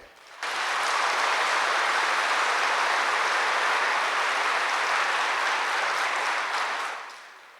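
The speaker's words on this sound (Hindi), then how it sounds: "इसके लिए आप सब उनके प्रति, भाई बहनों के प्रति, नेपाल की भाई बहनों के प्रति जोर से ताली बजाए।" Loud, sustained applause from a large audience at a spiritual gathering, a dense wash of clapping that starts abruptly, holds evenly for about six seconds, then tapers off.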